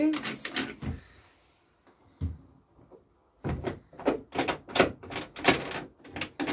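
Side hatch doors on a Lancaster canal boat being untwisted loose and opened, a series of sharp wooden knocks and clunks in quick succession, close by, amid a voice talking.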